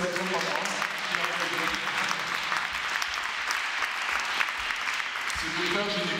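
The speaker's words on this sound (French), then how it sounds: "vous pouvez l'applaudir par moi" An audience at a festival talk applauds in a steady, dense wash of clapping that holds for several seconds, with a voice speaking over it.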